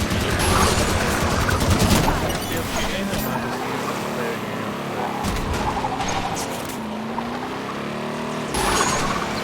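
Gunfire and vehicles in a Halo video game battle, dense bursts of shooting and engine roars with skidding and impacts, under excited shouting voices.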